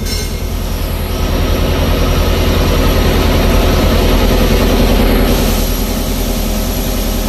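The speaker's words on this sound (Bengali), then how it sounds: "আর উইচাই ব্র্যান্ডের ইঞ্জিন।" A Weichai marine diesel engine, one of two 750 hp units, drones steadily and loudly in the airtight engine room of a passenger launch, with a deep constant rumble and no talk.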